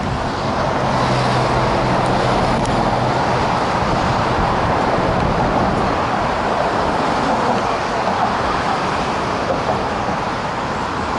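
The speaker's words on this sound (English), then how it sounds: "there's 8 lanes of traffic here" A constant, loud roar of road traffic rushes past on an eight-lane bridge in North Sydney, dense and unbroken, with no voices.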